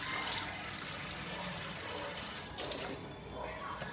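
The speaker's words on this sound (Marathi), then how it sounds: "आता प्रॉन्स क्लीन करण्यासाठी मी एका बाउलमध्ये सगळ्या जागेचं पाणी घेते" Water poured into a bowl in a home kitchen for cleaning prawns, a steady soft splashing and trickling stream that runs throughout at low volume.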